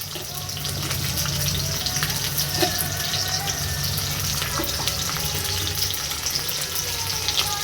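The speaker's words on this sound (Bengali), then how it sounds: "এর মধ্যে পরিমাণে পেঁয়াজ দিয়ে দেওয়া হলো।" Onions fry in hot oil with dry red chilli, cardamom and cinnamon, giving a steady, loud sizzle and hiss that stays even throughout with no voices.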